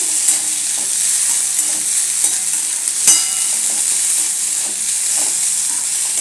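Green chilli and crushed peanut powder fry in hot oil for a thecha, with a continuous bright sizzle and repeated scraping stir strokes, one sharp clink midway.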